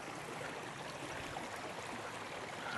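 Steady rushing of water flowing in an alpine stream near Siviez Nendaz in the Swiss Alps, a constant broadband wash heard up close and alone, with no voices.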